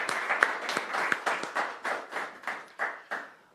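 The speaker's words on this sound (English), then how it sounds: "Let's have one more round of applause for the Q&A." A small audience at a non-profit event's question session gives a thin round of applause, with scattered individual claps that thin out into a few slow, distinct hand claps.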